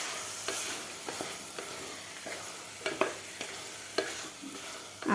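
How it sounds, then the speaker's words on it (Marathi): A spoon stirs black-eyed peas and potatoes into a sizzling masala in a pan for a caterer-style curry, giving steady scraping and frying hiss with repeated clinks and knocks against the pan, close and alone. "आता व्यवस्थित आपल्याला ह्या खालच्या मसाल्यामध्ये चवळी आणि बटाटे व्यवस्थित मिक्स करून घ्यायचं आहे"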